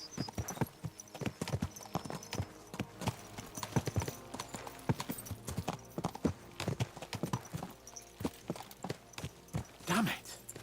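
Horse hooves clip-clop steadily across a road in Kingdom Come Deliverance 2, sharp repeated strikes close by with a quick galloping rhythm, joined briefly by a short whinny near the end.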